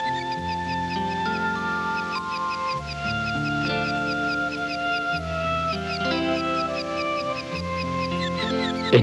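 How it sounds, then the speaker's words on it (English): A mother duck calls to her ducklings from the nest, rapid repeated quacking and clucking notes over a continuous musical soundtrack, steady and fairly loud throughout with no talk. "The hen is calling her ducklings."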